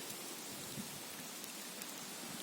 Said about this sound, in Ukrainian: то дощик починається якийсь дивний